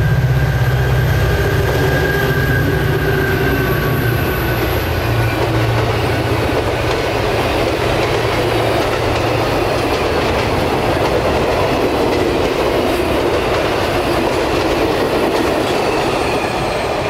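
A CSX freight train passes close to the tracks with a loud, steady rumble and rolling clatter that fills the whole stretch, with faint wheel squeal above it.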